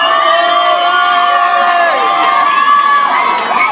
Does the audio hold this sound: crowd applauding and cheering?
yes